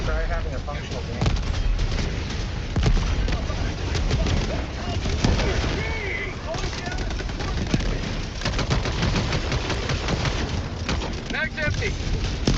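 Rapid automatic gunfire from a support weapon in a video game, sustained and loud through the whole stretch, with explosions and battle effects mixed in and a voice talking over the shooting.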